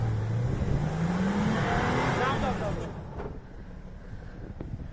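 An Infiniti QX4 4x4 engine revs hard with a rising pitch, loud and close, then eases off and drops to a lower idle as the throttle lets go.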